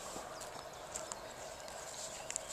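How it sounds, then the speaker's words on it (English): Horses near Hluboká in the Czech Republic walk at a distance, hooves clip-clopping faintly and irregularly over a quiet outdoor background. "More horses in the distance."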